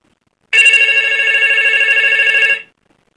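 A telephone rings as a caller is connected to a phone-in radio program, one steady electronic ring lasting about two seconds, loud and close with no talk over it.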